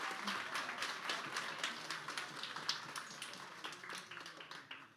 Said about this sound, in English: I want one more final round of applause